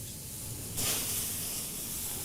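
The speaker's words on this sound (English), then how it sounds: "I'll just give it one more baste on both sides" Sauce basted onto carne asada on a hot grill sets off a sudden loud hiss that swells partway through and holds steady over an already sizzling background, close by with no talk.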